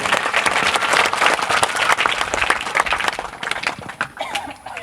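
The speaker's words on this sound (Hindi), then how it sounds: "सवाई सिंह जी के लिए एक बार और जोरदार ताली बजाएं।" Crowd at a building inauguration ceremony in Rajasthan claps loudly, a dense burst of applause that thins and fades toward the end, with a few scattered voices.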